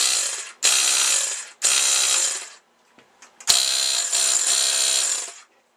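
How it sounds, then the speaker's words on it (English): A Ryobi 737 18V cordless power inflator with a 2-inch pump cylinder and a 4 amp-hour battery runs in loud, close buzzing bursts, three long runs of about a second or more separated by short stops and small clicks. "the pump is a 2-inch cylinder that actually does the pumping"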